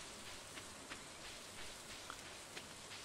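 Rain in the Stardew Valley video game, a soft, even patter of falling drops with a few slightly sharper taps, faint and continuous without any voices.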